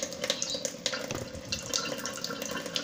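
Water runs steadily from a tap into a sink while goalkeeper gloves are washed by hand, a continuous splashing rush with small spatters and drips, close and moderately loud, without speech.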